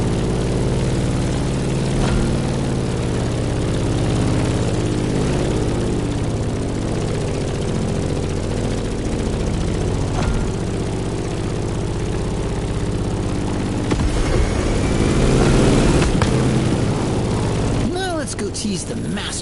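Grumman F8F Bearcat propeller plane engine in The Crew Motorfest, a steady droning roar held throughout under talk and game sounds, swelling briefly near the end.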